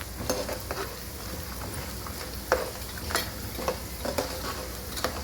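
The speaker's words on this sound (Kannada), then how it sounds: "ಇದು ಚೆನ್ನಾಗಿ ಫ್ರೈ ಆದ ನಂತರ ಕಡಲೆಬೇಳೆ, ಉದ್ದಿನಬೇಳೆ ಚೆನ್ನಾಗಿ ಫ್ರೈ ಆಗಿ ನಂತರ" Chana dal and urad dal fry in hot oil in a pan, giving a steady low sizzle with occasional light stirring clinks and taps scattered throughout.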